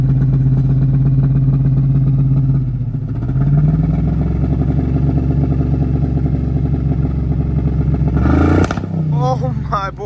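An old Chevy OBS truck engine, starting for the first time in eight years, runs loud and rough with a low droning exhaust, pops and clatters as burning catalytic converter debris blows out, then a sharp burst near the end.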